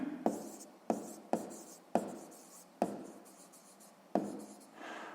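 A pen writes on paper during a sixth-grade maths exercise, with a string of separate, quick strokes close by and quiet pauses between them.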